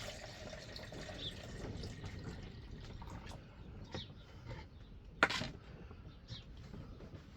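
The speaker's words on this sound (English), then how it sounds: "So just try pouring this into the jug without spilling it." Liquid drained from a bag of coco growing medium is poured into a jug, giving a faint, steady trickle with a few small splashes, heard alone at low level.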